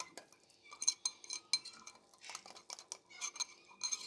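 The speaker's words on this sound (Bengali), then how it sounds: "এটাকে সুজিটাকে ভালো করে আমি ফেটিয়ে নিচ্ছি, দিয়ে মিশিয়ে নিচ্ছি ডিমটার সঙ্গে।" Semolina and egg whisked together into a batter in a bowl, brisk rapid clinking and scraping of a utensil against the dish in quick irregular bursts, close and fairly quiet with no talking.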